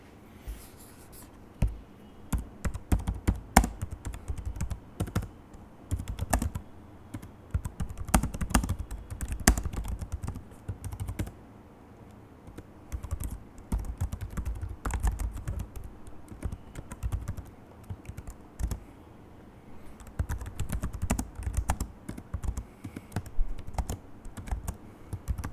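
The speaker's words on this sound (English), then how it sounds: "Here's a quick sound test of how the keys sound." Keys on a Lenovo ThinkPad E495 laptop are typed in quick, irregular bursts of soft, close tapping with brief pauses between runs, no voices present.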